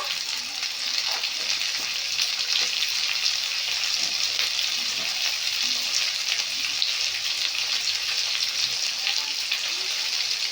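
Chopped tomato and onion fry in a pan for a light pabda fish and potato curry, with a dense, even sizzle that holds steady and close throughout, no voices.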